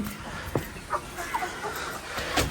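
Chickens cluck in short, scattered bursts nearby, several birds calling intermittently over a soft background hum.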